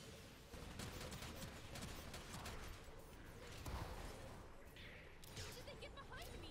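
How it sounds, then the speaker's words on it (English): Rapid machine gun fire in a Gundam giant-robot video game rattles as a dense, continuous barrage with in-game crashes, while someone talks over it. "Oh, it's a machine gun."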